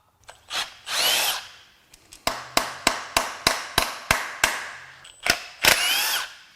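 A power drill runs close by, whirring between a steady series of sharp, rhythmic hammering bursts as it drills out bolts on a Subaru EZ30R 3.0 flat-six engine, loud and unaccompanied.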